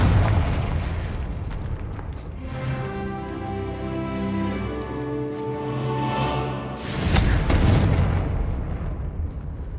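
A Confringo fire spell bursts in Hogwarts Legacy, a heavy booming blast with rumbling low end that swells, holds, then cuts off before a second rush of noise, loud and with no talk over it.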